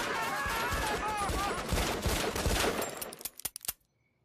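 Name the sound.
gunfire from several handguns in a cartoon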